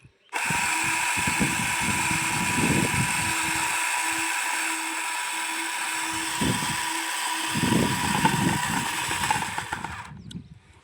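A small motor drives a model Arjun Mahindra tractor built from PVC pipe, a steady close whine running for about ten seconds. Low rumbling bursts come and go beneath it, and the sound stops abruptly at the end.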